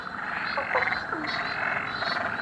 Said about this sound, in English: you can hear all the amphibians are having a great time